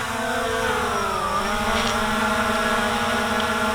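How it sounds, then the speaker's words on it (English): A Hubsan Zino 2 drone sitting on the ground with its motors idling, a steady close electric whine with layered tonal hums that dip briefly in pitch before settling back to an even drone. "So yeah, that fired up the motors. So the motors are idling."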